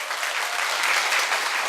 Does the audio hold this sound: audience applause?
yes